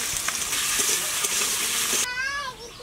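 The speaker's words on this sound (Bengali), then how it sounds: "এবার আমি আলুগুলো ভেজে নেবো" Potatoes frying in mustard oil in a kadai with dried chilli, bay leaf and cumin: a loud, steady close sizzle with stirring that cuts off after about two seconds, giving way to a brief, different tonal sound.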